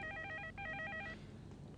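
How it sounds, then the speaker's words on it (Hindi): A telephone rings indoors in two quick trilling bursts of electronic tone, then falls silent, with no one speaking. "प्रोफेसर वर्मा आपका फोन।"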